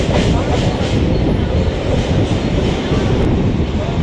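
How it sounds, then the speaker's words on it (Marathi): A train rumbles steadily and loudly at Dadar railway station in Mumbai, with continuous rolling wheel noise and faint clickety-clack throughout. "आता आपण पोहोचलेलो दादर स्टेशन। आता इथून दादर स्टेशनपासून जाऊया आता आसनगावची ट्रेन पकडायला।"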